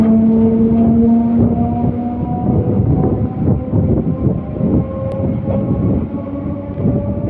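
A MEMU passenger train runs steadily after pulling out of Eluru station, with a continuous loud rumble, low drone and faint rhythmic rattling of the carriages, heard from inside.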